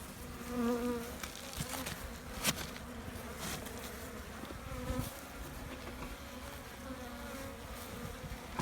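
Honeybees buzz steadily in an open hive colony where the cluster has eaten through a pollen patty in spring, a dense continuous drone close to the frames with faint handling clicks.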